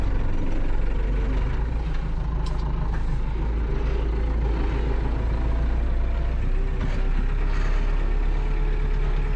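A small Massey Ferguson tractor's diesel engine runs loud and close throughout, a continuous low rumble with occasional hissing and clanks over it.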